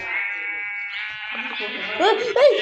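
A sheep gives a long, wavering bleat nearby, followed by a few shorter, sharper bleats.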